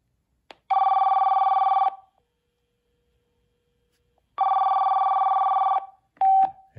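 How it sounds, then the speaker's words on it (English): A vintage car phone ringer sounds for an incoming call: two loud, close bursts of electronic warbling tone with a pause between, followed by a brief click and short tone as the call is picked up. "Time for an incoming call so we can hear the ringer."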